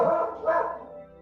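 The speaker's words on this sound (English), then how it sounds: "my dogs are barking." A dog barks in a couple of quick, close bursts that trail off, with no talking.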